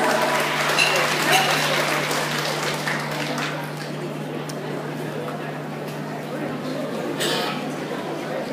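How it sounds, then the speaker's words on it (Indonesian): At a church choir competition in Jakarta, an audience gives a choir contestant steady, moderately loud applause that tapers off, with an announcer talking over it. "Kembali kita berikan tepuk tangan yang meriah kepada peserta dengan nomor undian"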